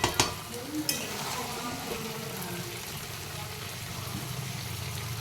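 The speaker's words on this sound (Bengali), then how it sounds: "প্রায় কষানো হয়ে এসছে, আর একটু কষাবো" Mutton cooked with curd sautés in a pan with a dense, even hiss of frying, opening with a couple of sharp clicks from the stirring utensil before settling into a steady sizzle.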